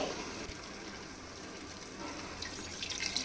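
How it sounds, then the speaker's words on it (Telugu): Steady rushing water poured from a glass into a pot of mutton, a continuous broadband stream that swells slightly toward the end, with no voices. "ఈ యొక్క గ్లాస్తోని వాటర్ పోస్తున్నాను"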